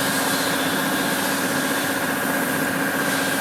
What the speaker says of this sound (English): I got the compressor going over there